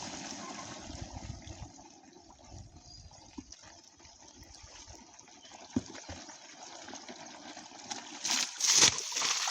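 Pumped water gushing steadily into a tank on a farm, with a continuous splashing rush that surges louder near the end.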